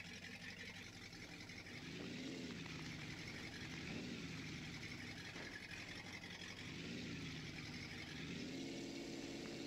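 Off-road vehicle crawling through mud in low gear, engine held at low RPM: a steady, muffled drone with gentle swells in pitch as the throttle rises and falls, faint and continuous with no talk.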